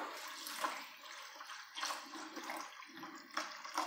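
A small amount of water swirls and sloshes in a cooking pot as it is rinsed and poured out into a buttermilk dish, a steady, faint watery rush with soft surges.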